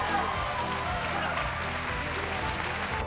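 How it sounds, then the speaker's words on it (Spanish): Audience applauds the winning blue team at a social award proclamation event, a continuous wash of clapping with a murmur of crowd noise, moderately loud throughout. "un aplauso."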